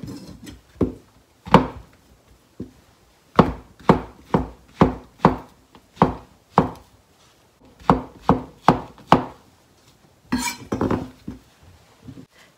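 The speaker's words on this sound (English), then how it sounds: "Then remove the stems of shiitake mushrooms. And slice them." A knife slices shiitake mushrooms on a cutting board in crisp, sharp strokes. The cuts come in quick bursts with short pauses between them, close and clear.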